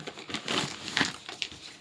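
A plastic zip bag is handled close up, giving soft crinkling and crumpling rustles in uneven bursts.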